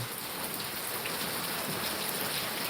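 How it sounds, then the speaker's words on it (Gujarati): Steady heavy rain pours down continuously, a dense even hiss of falling water with no voices or breaks. "સવાર સવારનો એટલો વરસાદ ચાલુ છે"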